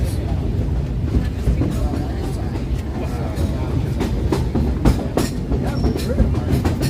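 Disneyland Railroad train rolling along its track at the park, a steady close rumble with occasional wheel clacks and squeaks running through the whole stretch.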